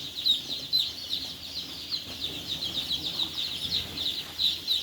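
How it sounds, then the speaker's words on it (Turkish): Chicks and hens in a coop: a dense chorus of high, rapid peeping chirps runs continuously, with soft lower clucking and faint scuffling beneath. "Gördüğünüz üzere yeni civcivler geldi."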